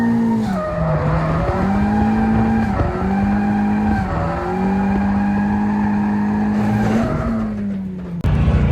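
A Mazda Miata drift car squeals its tires continuously as the engine holds high revs, the loud tonal screech wavering and shifting pitch over several seconds with no talking.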